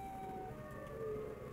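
Siren Head creature in a Roblox game lets out a steady siren-like wail with sustained tonal lines over low rumbling background, moderately loud throughout the short stretch.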